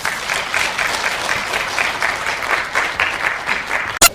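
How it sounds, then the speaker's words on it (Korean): An audience at a history lecture breaks into sustained applause welcoming a visiting professor, a dense, steady wash of many hands clapping at a moderate distance that cuts off abruptly at the end. "박수로 환영해 주시죠"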